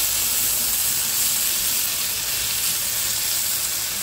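Malabar spinach buds fry in a hot pan with a steady, dense sizzle that holds evenly loud for the whole stretch, with no voices over it.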